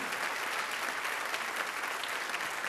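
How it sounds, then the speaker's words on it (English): Audience applause at a Sunday church gathering, a steady, fairly faint wash of clapping from a crowd with no pauses. "would you give Fee Ross and Mary and Joseph a nice round of applause?"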